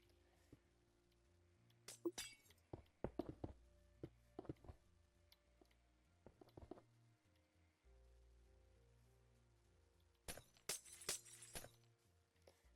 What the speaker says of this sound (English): I'm just going through and I'm breaking the glass that is in front of the pillar